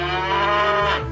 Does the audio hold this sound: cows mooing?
yes